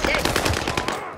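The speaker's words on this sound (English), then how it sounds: "Yep, they're shooting at us." Rapid automatic gunfire rattles in a Call of Duty: Warzone match on the Fortune's Keep map, a dense loud burst of shots lasting about a second before fading.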